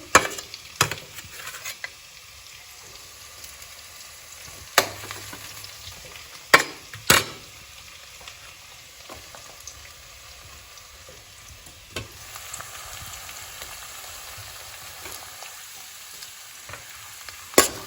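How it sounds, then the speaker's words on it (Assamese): Chopped tomato and onion fry in a pan while Maggi noodles are being made. A soft, continuous sizzle carries sharp scraping knocks from stirring at irregular moments. No one speaks. "এতিয়া বিলাহীটো আৰু পিঁয়াজটো ফ্ৰাই হৈ আছে"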